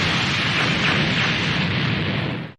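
Cooler and his troops exploding in the video game Dragon Ball Xenoverse 2: a loud, continuous roaring blast of noise that holds steady for over two seconds, then cuts off abruptly.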